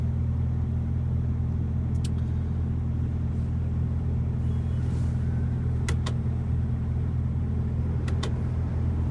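A heavy truck pulls away from a depot at the start of a long-haul run from Saint Petersburg to Krasnoyarsk, its engine a steady low rumble heard from inside the cab, with a few faint clicks over the drone.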